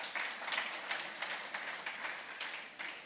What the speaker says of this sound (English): Clap for Zenith Bank.